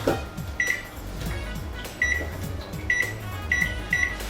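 An oven being set to preheat to 400 gives a string of short, clear electronic beeps in irregular bursts over a low background hum, close and with no talking.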